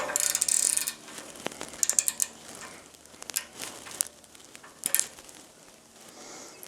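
A wrench ratchets on a bolt, giving a series of sharp metallic clicks in irregular bursts, some quick and clustered, others isolated, close by and without talk.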